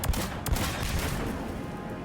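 Pistol gunfire in Mass Effect 3 Legendary Edition: a few sharp, loud shots land close together near the start, then a dense, continuous rumble of battle noise carries on with no talking over it.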